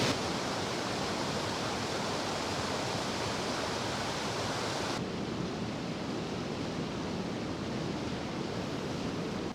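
Rushing high water in a mountain river in the Voje valley roars as a loud, steady broadband wash that runs unbroken from start to finish, with no voices.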